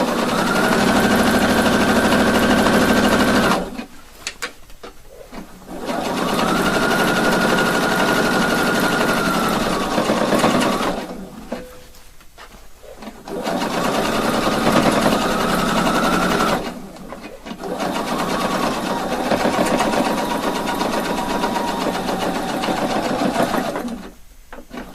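A sewing machine stitches a waist facing 2 mm from the edge, running loud and close in three long continuous bursts of steady whirring, with short quiet pauses between runs.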